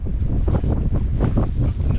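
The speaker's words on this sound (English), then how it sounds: "it's a bit breezy" Gusty wind buffets the microphone on an exposed Lake District fell walk near Grey Knotts, Brandreth and Green Gable, a loud continuous low rumble with surging gusts throughout and no talk.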